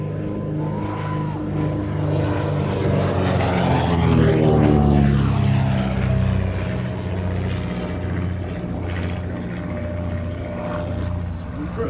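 A vintage de Havilland Comet airliner flies past at the Shuttleworth air show, a steady engine roar swelling to a peak midway and easing away, with a commentator talking over it throughout.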